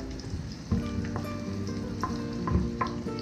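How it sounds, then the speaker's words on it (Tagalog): Onion and ginger sizzle loudly in a hot pan for chicken liver adobo, with steady frying crackle and a few scraping stirs close by. "magigisa na po tayo guys. Lagyan na po natin yung sibuyas. Luya,"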